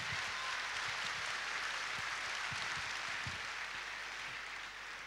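Concert audience applauding a composer at his anniversary concert; a thick, even wash of clapping continues steadily throughout without pause, fairly distant and moderately quiet.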